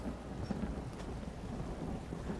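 Steady rain in The Elder Scrolls Online patters and hisses throughout, with a low rumbling underneath, moderately loud and with no talking.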